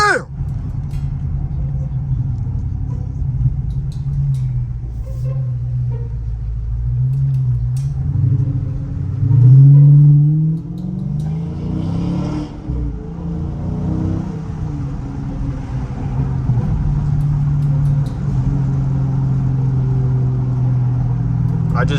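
Deep, loud V8 rumble of a Dodge Challenger Scat Pack heard from inside while driving, swelling into a rev and dropping away, then settling into a steady drone under occasional voices.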